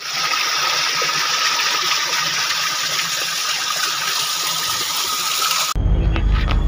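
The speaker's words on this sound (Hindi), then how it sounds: "और ये झरना दिखाते हैं आपको" Water from a waterfall in the high hills of Lakheri gushes in a steady, loud broadband roar, then cuts abruptly near the end into a closer, rougher rush.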